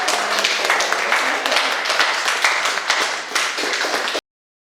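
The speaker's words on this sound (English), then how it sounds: "Huge round of applause for Melanie Priest." Enthusiastic audience applause after an art painting demonstration, dense sustained clapping close and loud, continuing steadily for about four seconds before cutting off abruptly.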